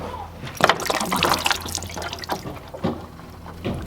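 Coolant trickles and splashes as it drains from a Ford Sierra Sapphire Cosworth during a radiator part swap, a close, continuous wet pouring with small drips.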